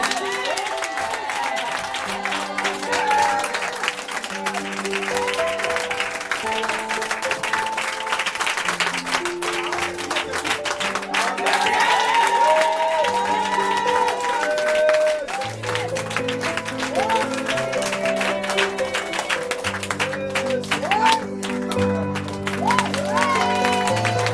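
A church congregation claps and cheers to praise the Lord during an intense preaching session, steady applause and crowd noise mixed with music and voices throughout.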